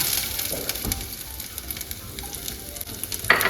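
Chopped ginger hits hot oil in a pan while cooking a brinjal curry, giving a steady, close sizzle and crackle that runs the whole time with a brief sharper spatter near the end.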